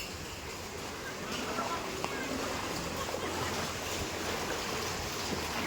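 Floodwater rushes through a housing society in Pune after heavy rain, a steady broad roar of moving water with some wind noise on the microphone throughout.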